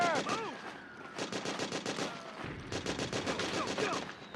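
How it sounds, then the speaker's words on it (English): Rapid bursts of automatic gunfire in the Metal Gear Solid 4 video game, sustained volleys crackling in quick rhythmic rounds, close and loud, with shouted voices mixed in. "Suppressing fire!"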